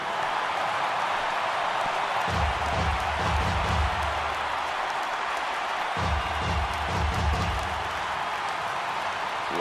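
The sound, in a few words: crowd cheering in a baseball video game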